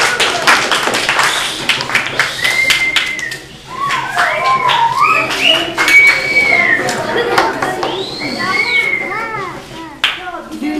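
A school audience claps through a classroom performance on Turkish customs and traditions, with dense, uneven hand claps mixed with children's chatter and scattered voices throughout, fairly loud and close.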